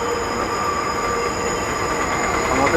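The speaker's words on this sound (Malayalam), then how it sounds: "കോഴിക്കോട് മെട്രോ പോകുന്നുണ്ട്." A metro train passing near a city road in Kozhikode, a steady loud rolling rumble with faint wheel squeal and high metallic tones running throughout, no talk.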